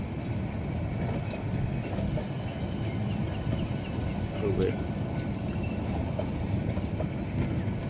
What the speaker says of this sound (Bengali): জক জগাজগ ট্রেন চলেছে রেলের আওয়াজ